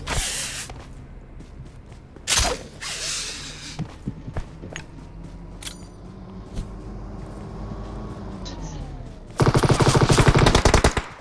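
Gunfire in PUBG Mobile, with scattered single shots and sharp cracks, then a loud dense automatic burst near the end, over vehicle-like engine hum and footsteps.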